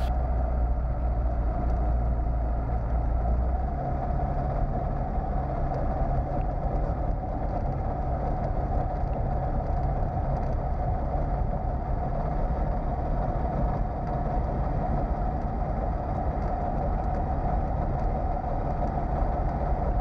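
A Pipistrel Alpha Trainer light aircraft engine idles roughly and unevenly, a steady close low drone with a slightly clunky, chattering texture running continuously throughout.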